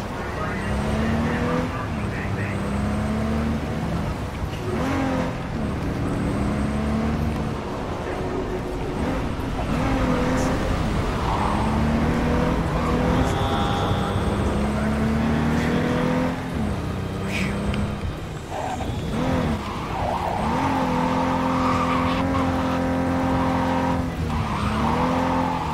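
Cars rumble, rev and screech through city streets in Cyberpunk 2077, with engines droning steadily and tires squealing now and then, while someone talks over the traffic.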